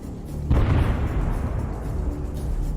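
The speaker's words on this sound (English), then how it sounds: "after some time, an explosion occurs right next to the wheel" A loud explosion bursts right beside the wheel of a MaxxPro armored vehicle in a combat zone, a sudden deep boom followed by a sustained rumbling roar that lingers with no speech.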